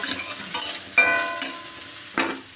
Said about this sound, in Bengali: এই তেলেই এখন আমি বেগুনটা ভেজে নেব